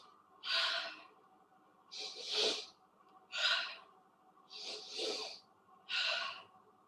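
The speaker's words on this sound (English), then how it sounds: "2 quick breaths in like you're trying to smell something, and then exhale" A person breathes in a calming pattern, two quick sniffs in through the nose followed by a long exhale, repeated a few times close up at an even rhythm, with no talk.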